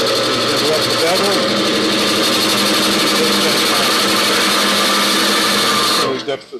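Wood lathe turning end grain, a spindle gouge cutting a small shoulder; a loud, steady machine drone with cutting noise runs for about six seconds before cutting off abruptly.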